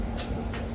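A dog makes a few short, soft breathy sounds, like quick panting, close by over a low background rumble.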